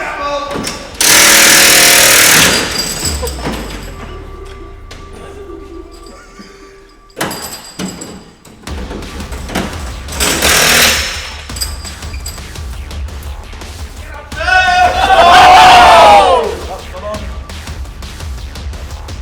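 Pneumatic wheel guns buzz in loud bursts during a BTCC wheel change challenge, with short sharp rattles and clunks between them and people talking nearby.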